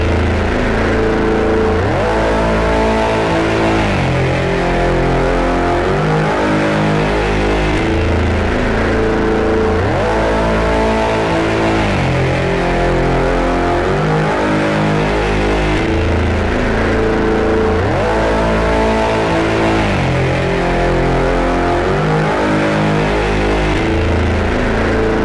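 A synth plays a repeating low, rumbling pattern through an LA-2A style compressor plugin. The loud, dense tones pulse in a steady rhythm for the whole stretch, with no speech.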